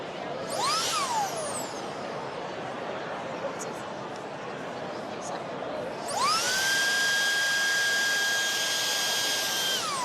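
A robot vacuum's self-emptying dock makes a steady mechanical whine and rushing noise, then a louder, high-pitched motor spins up and holds a sustained suction roar emptying into a bag.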